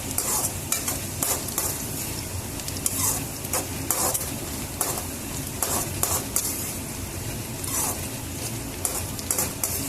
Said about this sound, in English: Keep stirring it continuously till the onions turn translucent.